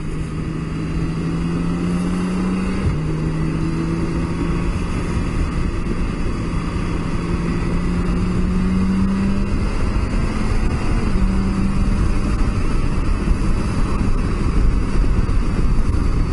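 Motorcycle engine heard from the rider's helmet while riding in traffic, a steady close drone with gently shifting pitch under continuous wind rush and no talk.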